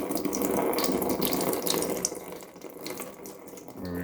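Coolant pours steadily out of a 2.0T FSI Audi A4 engine (B6/B7) as the water pump is removed during a timing belt job, a close, continuous splashing stream that eases off slightly toward the end.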